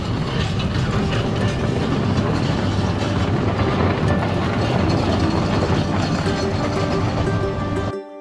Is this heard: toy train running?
yes